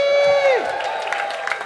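An audience cheers for Tash's birthday at a Not On Your Rider show, a rising swell of voices and whoops that follows a long sung note, loud and close with broad crowd noise.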